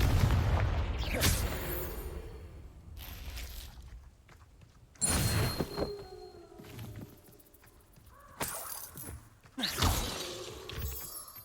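Confringo spell blasts in Hogwarts Legacy erupt as a series of sharp, booming explosions with shattering crackle, each burst trailing off into a rumbling decay between hits.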